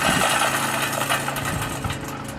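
A Yardworks 18-inch reel lawn mower held up with its blades spinning freely, giving a steady close whirring and clattering mechanical rattle that fades slightly toward the end.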